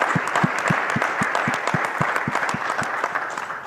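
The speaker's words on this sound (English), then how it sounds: "give yourselves a little applause and let's celebrate the work that you're all dedicated to" Applause from a live audience at a Chan Zuckerberg Initiative Rare As One event, celebrating their own work; distinct individual claps stand out near the front of a steady crowd clapping, moderately loud and continuous.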